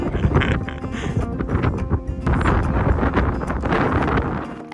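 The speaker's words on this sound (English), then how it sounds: "As you can hear, the wind in this location is fierce" Fierce wind gusts batter the microphone at an exposed outdoor spot in Hawaii, a loud continuous rumbling buffet with surging peaks and faint rustling underneath, and no talking.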